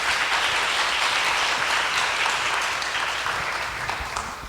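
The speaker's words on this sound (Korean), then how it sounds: "박수로 모시겠습니다" Audience applause at a university art college symposium welcoming a professor to the stage, a steady dense wash of clapping from a full room that fades slightly toward the end.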